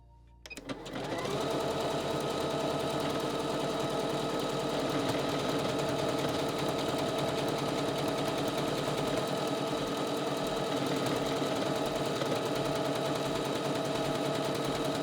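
A Juki HZL 70HW-B domestic sewing machine stitches a buttonhole, starting up after a brief quiet moment and then running in a steady, loud, continuous rapid whir with no voices.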